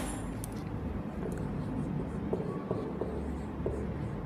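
A pen scratches out a definition by hand during an English grammar lesson, producing soft, faint scratching strokes with small taps over a low steady room hum.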